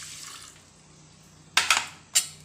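Water and coconut milk are poured into a pressure cooker holding rice: a quiet stretch followed by three short, splashy bursts of liquid, close by.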